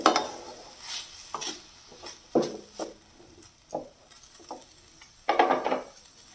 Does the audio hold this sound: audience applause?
no